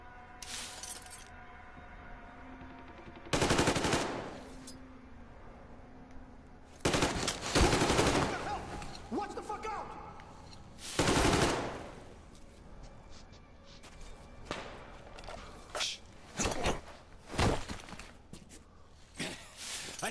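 Gunfire in the video game Metro Exodus: loud bursts of automatic weapon fire and single shots in irregular clusters, with glassy shattering and clinking debris between volleys.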